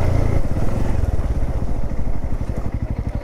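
A motorcycle engine chugs loudly and close at hand with steady, rapid firing pulses throughout, as the bike labors over a rough, obstacle-filled road on a Kolkata to Sikkim ride.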